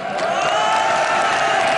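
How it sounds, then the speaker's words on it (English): A crowd clapping and cheering continuously at a League of Legends esports match, dense and loud throughout, with no pauses. "Good applause here."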